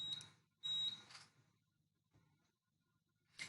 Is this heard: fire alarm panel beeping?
yes